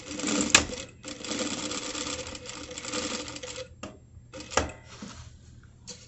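Sewing machine back stitching a shift dress, bursts of rapid mechanical stitching broken by short pauses and a sharp click, close and fairly loud, with no talking.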